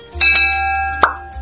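A notification bell sound effect rings once, a bright bell-like chime followed by a short plop-like ding, loud and clear over a low steady hum.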